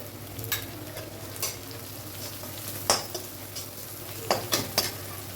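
A steady sizzle of a stir-fry deep-frying in oil in a pan, with occasional clinks and scrapes of a utensil stirring against the pan.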